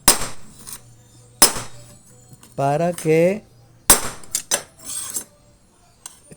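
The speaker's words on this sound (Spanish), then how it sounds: "doy unos golpecitos con un martillo o con lo que sea" Light hammer taps on the needle plate of a Toyama JH350 sewing machine, several sharp close metallic knocks spaced irregularly, with a short spoken phrase between them.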